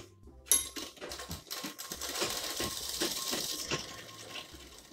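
Sewing machine stitching a baby jumpsuit, a rapid run of sharp mechanical clicks and taps in uneven bursts, close and moderately loud, with no talking.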